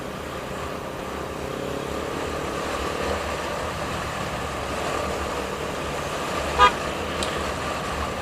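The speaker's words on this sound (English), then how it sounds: "That's my horn, don't worry," A Kawasaki 250R motorcycle horn gives one short, sharp honk, followed by a fainter second toot, over a steady drone of engines in a Malaysian traffic jam.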